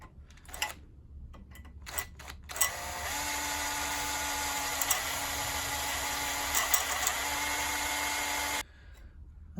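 A drill bores a 4mm hole through the soft zinc of a Bosch Varioperfect washing machine door hinge, a steady whining grind lasting about six seconds after a few short starting bursts, close and loud, then stopping abruptly.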